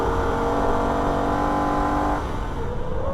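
A Holden VF Ute's engine drones loudly during a lap of the Nürburgring, then its note drops and shifts as the car downshifts into third gear heading into a corner.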